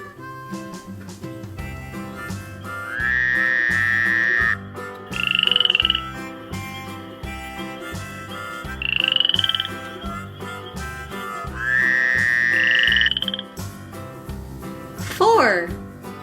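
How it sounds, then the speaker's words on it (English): Several drawn-out croaks from toy frogs sound one after another in a children's counting toy setting, accompanied by music and a voice talking. "4 jumping frogs."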